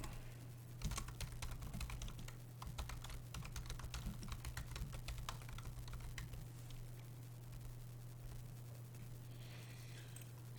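Linux commands are typed on a computer keyboard in quick, steady runs of close, crisp key clicks over a low electrical hum, with no talking.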